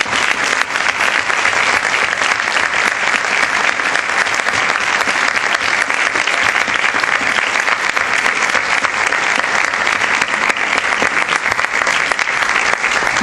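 Loud, dense applause from an audience at a local history conference carries on steadily without a break, close and full throughout with no voices heard.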